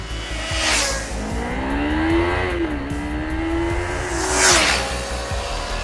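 A 2022 Kawasaki Ninja 400 motorcycle engine revs high while riding, holding a steady rising and falling whine with wind rush around it, loud and close, with no talking.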